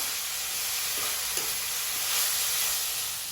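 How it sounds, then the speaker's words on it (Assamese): Chickpea dal being fried in a pan with salt, a continuous dense sizzling hiss with faint scraping of stirring, no voices. "এইখিনি এতিয়া আমি ভালদৰে ভাজি ল'ম।"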